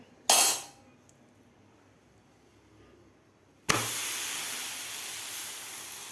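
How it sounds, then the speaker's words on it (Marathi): A thalipeeth lands on a lightly oiled iron tava with a sudden loud sizzle that sets in and keeps hissing steadily to the end, after an earlier brief burst of hiss and a quiet stretch. "हे मी एक लोखंडी तवा ठेवलेला आहे त्याला थोडंसं तेल लावलेलं आहे तर त्यावर आपल्याला आता हे थालीपीठ टाकायचं आहे"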